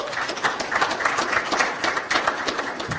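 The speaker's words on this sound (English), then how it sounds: "If you can give them a round of applause" Audience applause at an annual meeting, a dense, sustained round of clapping from a crowd, even and fairly loud throughout with no talking over it.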